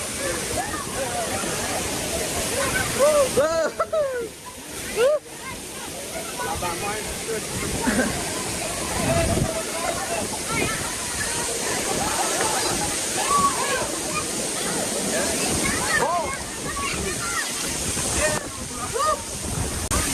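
Steady broadband rush of water pouring down at Kangthi Langso Waterfall in Kangthi, Karbi Anglong, continuous and close throughout, with excited voices talking over it.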